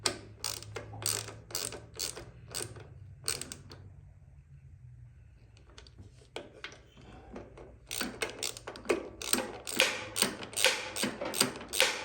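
Ratcheting clicks from a wrench tightening bolts on a replacement carburetor for a 1998 Yard Machines 13/38 riding mower, quick bursts of mechanical clicks with a quiet pause in the middle, fairly faint.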